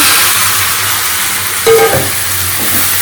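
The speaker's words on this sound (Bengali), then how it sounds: "ওদিকে করলা ভাজাটা চাপিয়ে দিয়েছি কুমড়োটা দিকে চাপায় ফোড়ন দেওয়া হয়েছে" Bitter gourd fries in a pan while a tempering sizzles close by. A loud, continuous hiss runs throughout, with a brief metallic clink in the middle and no talking.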